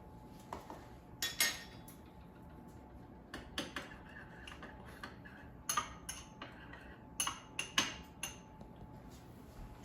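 A utensil stirs melted butter with grated Parmesan cheese in a bowl, making faint, irregular clinks and light taps against the side in small clusters over a quiet background.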